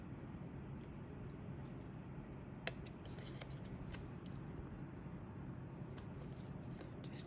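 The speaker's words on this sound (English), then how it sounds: "So what I'm going to do is cut this coat out, including there's a little slit up the back of the coat." Scissors snipping around a paper coat piece for a stamped card, soft, faint cuts in an irregular rhythm over a quiet room hum.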